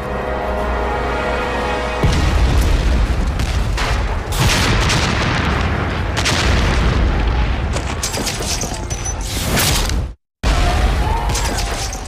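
Loud artillery bombardment during a September 1776 assault on New York: heavy booms and blasts roll in one after another over a continuous rumble, with a brief silent gap near the end before the barrage resumes.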